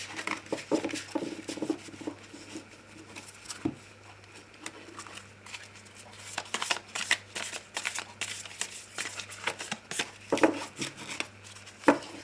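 Oracle cards shuffled by hand for a reading, repeated quick papery riffles and taps in uneven bursts, close and fairly quiet against a low steady hum.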